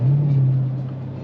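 A speeding car passes on the road, heard from inside a Dodge Durango SRT 392 as a loud, steady low engine rumble that fades slightly over a brief moment.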